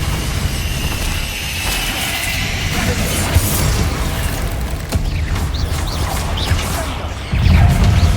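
Confrigo spell blasts in Hogwarts Legacy, loud booming crashes and whooshing impacts that run together into a dense roar, with a heavy hit near the end.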